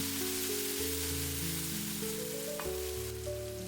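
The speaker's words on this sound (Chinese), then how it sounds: "接下來把西紅柿丁直接倒在裡面，把西紅柿翻炒均勻" Diced tomatoes stir-frying in oil with scallion and ginger in a wok, a steady broad sizzle with faint tonal hum underneath, continuous and close, no talk.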